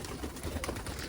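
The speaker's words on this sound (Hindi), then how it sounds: "सारे कबूतर वापस बाहर आ गए" Soft, low cooing of pigeons on a rooftop, several murmuring calls overlapping in a short, fairly quiet stretch.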